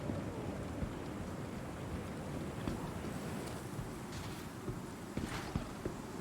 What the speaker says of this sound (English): I'm going to walk through this wind first, and it's quite windy, so I'm not able to run